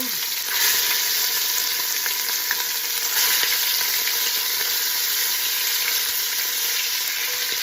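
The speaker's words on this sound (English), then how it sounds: "And now we're going to sear our meat." Steady, bright crackling sizzle of pork for carnitas searing in hot oil, continuous and close, with a few small pops and no talking.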